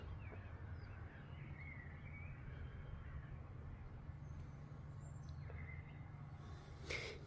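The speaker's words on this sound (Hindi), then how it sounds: "चिड़ियों की आवाज़ आ रही है" Faint birds chirp and call in the distance over a low steady hum, with scattered short tweets and a brief sharp sound near the end.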